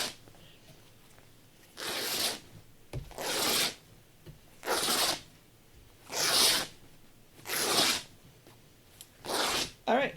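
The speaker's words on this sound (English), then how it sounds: "You don't often get to rip 8 yards of fabric." Cloth is torn by hand six times in long strips, each rip a sharp, raspy burst lasting about a second, with quiet pauses between them.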